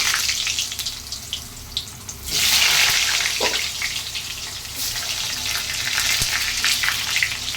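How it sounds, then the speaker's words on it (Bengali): Potatoes fry in the same oil just used for fish, giving a close, steady sizzle that swells into a louder burst of crackling partway through, with no talk. "এবার আমি ওই তেলেই আলু দিয়ে দিচ্ছি। আলুগুলো আমি ভেজে নিচ্ছি।"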